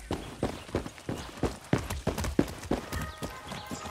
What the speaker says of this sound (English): Beautiful horse, oh.